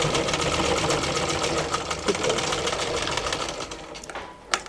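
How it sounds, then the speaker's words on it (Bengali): A sewing machine runs steadily while stitching a half collar dress, its fast mechanical rattle continuous and close, then slowing and stopping near the end with a final click. "সেলাই করা হয়ে গেল।"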